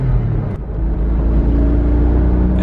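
A misfiring Porsche 986 Boxster S flat-six held at full throttle around 35 mph, giving a loud, steady engine roar with uneven, stumbling pulses and constant road rumble, with no voice over it.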